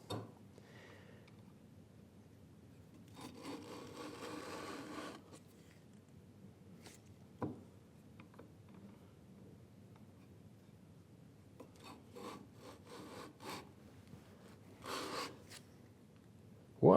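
A router plane blade scrapes softly as it is rubbed back and forth on a sharpening stone, in a few faint, gritty strokes heard in short bursts against a quiet background.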